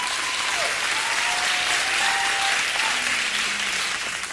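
A large crowd applauds loudly and steadily throughout, a dense wash of clapping with no pauses.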